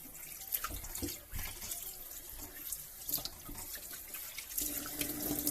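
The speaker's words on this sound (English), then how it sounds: "we'll come back to wash the fish" Fish being washed by hand under a running kitchen tap, water splashing steadily into a sink with uneven bursts and drips, close by and alone with no talk.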